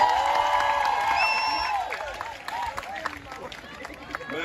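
Applause and cheering from an audience at an Urdu poetry gathering, a crowd clapping and murmuring that gradually thins out, with voices audible through it.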